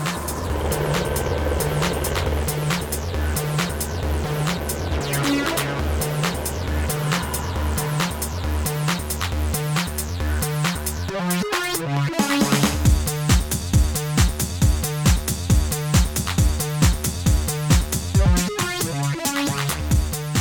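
A helicopter flies out to an avalanche control site in the mountains, its rotor chopping loud and steady, then growing harsher and more pulsing partway through.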